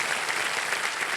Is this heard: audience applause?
yes